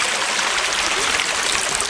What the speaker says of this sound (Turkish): Şu anda derenin içindeyiz.